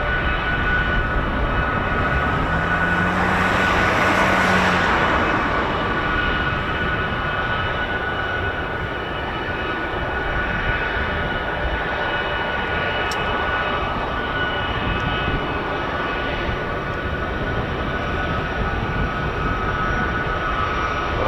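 A C-17 heavy jet transport aircraft with four Pratt & Whitney engines at an air base, its steady broad roar swelling early and then holding as a continuous loud rumble.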